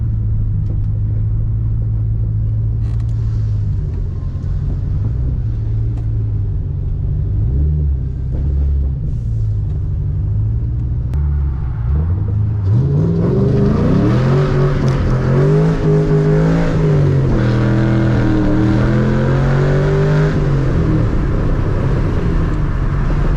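A race car engine rumbles steadily at low speed, then revs up and swings through a turnaround with rising, fluctuating engine tones; loud and close, heard from inside the car.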